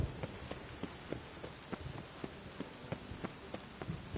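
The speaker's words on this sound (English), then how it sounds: "This weather makes me downright melancholy. Rain makes the city even more dreary." Steady rain falls in The Witcher 3 video game, a soft continuous hiss across a city setting with scattered sharper drips and taps at an irregular rhythm, no talking over it.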